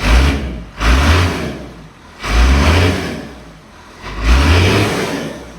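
A truck engine with a stock exhaust revs up three times in long surging bursts, each rising then settling back to a lower rumble, close and loud with a coarse exhaust note.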